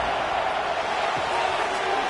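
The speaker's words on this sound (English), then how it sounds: "This crowd is trying to inspire this defense to make a big red zone stop." Stadium crowd noise from a college football video game, a dense steady roar filling the whole moment at a constant loud level during a red zone defensive stand, without clear peaks.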